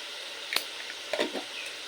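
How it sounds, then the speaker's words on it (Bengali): Spices being sautéed in oil for a Bengali katla fish curry with potatoes, a soft steady sizzle broken by a couple of brief stirring scrapes and clinks. "এবার মশলা ভালো করে তেল ওঠা পর্যন্ত খুব ভালোভাবে কষিয়ে নেব"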